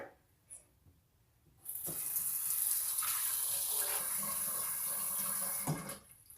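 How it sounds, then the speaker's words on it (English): Tap water runs hard into a pot holding raw chicken in a home kitchen, a steady loud rushing gush lasting several seconds before cutting off, with brief clatter before and after. "gonna put the chicken in and fill it up with water"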